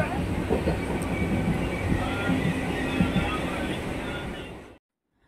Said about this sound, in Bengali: এখন উঠে পড়েছি লোকাল ট্রেনে